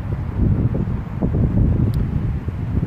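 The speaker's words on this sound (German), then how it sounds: "Hier zieht es echt gerade durch die Straße," Gusty wind blows along a city street in Bochum, making a steady low rumble and buffeting of the microphone throughout, with no clear voices over it.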